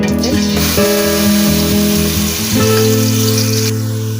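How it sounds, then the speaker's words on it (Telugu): Onion paste fries in four tablespoons of hot oil for an Andhra-style Godavari fish pulusu, a loud, close, steady sizzle layered over a sustained tonal drone, with no talking. "ఇది బ్రౌన్ కలర్ వచ్చేంత వరకు ఫ్రై చేసుకుంటాం"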